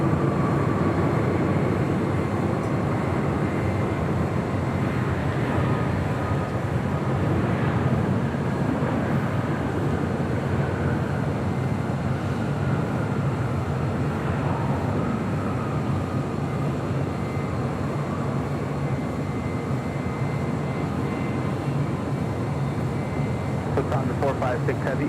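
A large jet landing at LAX gives a steady, loud roar and rumble that lasts throughout, with people talking over it.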